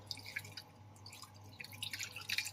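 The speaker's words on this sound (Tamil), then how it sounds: "இப்போ வந்து இதை அரைக்கிறதுக்கு தேவையான அளவுக்கு தண்ணி சேர்த்துக்கிறேன்" Water is poured into a mixer grinder jar holding ginger and other ingredients for homemade sugarcane-style juice, a faint, close trickle and splash with scattered drips that grow busier toward the end.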